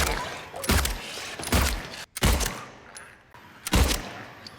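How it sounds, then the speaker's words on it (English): Several sharp, loud 9mm pistol gunshots in the video game Silent Hill 2 Remake ring out at irregular intervals, each a hard crack with a brief ringing tail, separated by quieter gaps. "Like the 9mm for example, just does not really sound like a 9mm."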